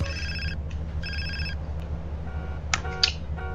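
A phone rings in the GTA San Andreas video game: bright electronic ring bursts repeat in short pulses over a steady low game hum, with a couple of quick clicks near the end.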